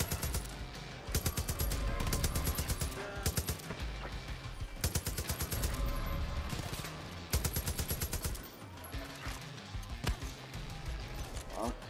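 Rapid automatic gunfire in the video game Far Cry 5, dense repeating bursts hammering almost continuously, loud and close, with short pauses between strings of shots.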